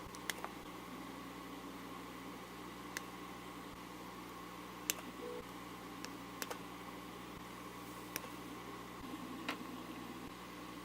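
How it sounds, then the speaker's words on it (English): Wires for a NodeMCU home-automation multisensor are cut to equal length and stripped at the ends, making sparse, sharp little snips and clicks over a quiet background hiss. "I cut these off at different lengths, so I'm just gonna cut them all to the same length, and I'll strip off just a little bit of wire at each end"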